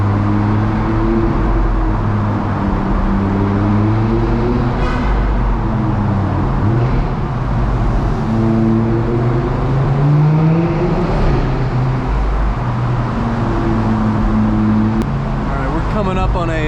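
Loud Audi RS3 engine heard from inside with the windows down while driving through Boston traffic, a continuous rowdy drone with rising and falling revs, and a voice talking over it.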